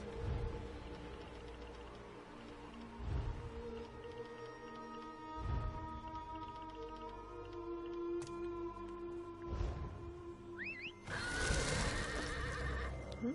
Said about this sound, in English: Let's check out the horse.